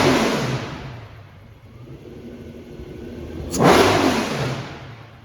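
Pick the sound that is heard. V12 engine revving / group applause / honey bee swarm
V12 engine revving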